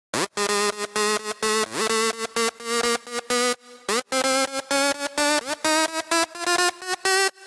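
A buzzy Sylenth1 synthesizer lead/bass patch plays a choppy run of short staccato notes with occasional pitch bends, alone and fairly loud.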